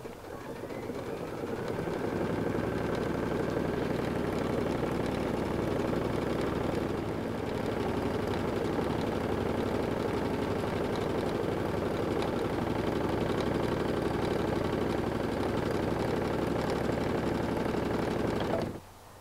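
A Brother Luminaire sewing machine runs a continuous row of stitches, its steady whirring hum holding evenly and close by for most of the span before stopping abruptly at the end.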